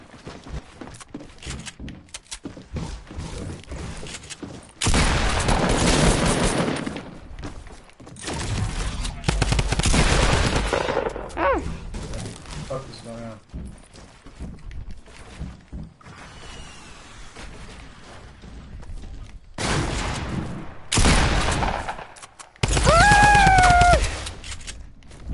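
Gunfire from a PS4 video game rattles in repeated bursts of rapid automatic shots, loud and sharp, broken by quieter gaps with other game sounds and a player's voice.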